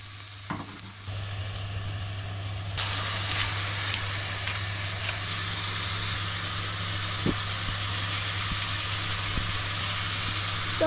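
Carrots and vegetables hit hot oil and sizzle steadily, the frying growing louder after a few seconds and continuing as a dense, even hiss with occasional stirring clicks, close by and without talk.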